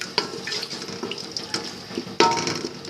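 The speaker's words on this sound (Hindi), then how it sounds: "इसके साथ हम ऐड करेंगे आधा गिलास पानी, ताकि ये मसाला अच्छी तरह से नरम हो जाए।" Half a glass of water is poured into curry masala for beef kofta curry, making a continuous splashing, trickling sound, close and moderately loud, with a sharper splash near the end.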